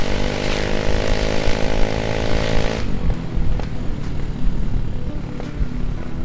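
A 2020 Yamaha Mio M3 125cc scooter with a loud aftermarket exhaust roars steadily and close, its buzzing engine note rising and then dropping in pitch partway through as it rides along.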